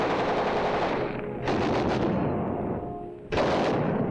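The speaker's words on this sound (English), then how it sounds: "Check and test fire all weapons." Machine guns test-fired by Marines preparing for the Tarawa landing in WWII, loud sustained bursts of rapid automatic fire with a brief lull, then another sharp burst near the end.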